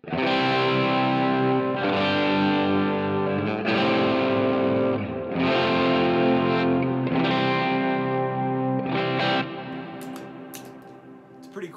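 An electric guitar through a Line 6 Helix with tremolo, light reverb and drive plays a run of sustained, gritty chords that pulse steadily in volume, loud and unaccompanied, then rings out more quietly toward the end.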